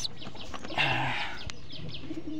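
Caged pigeons give soft, low calls amid faint bird chatter, with a slightly fuller coo near the middle. No one speaks.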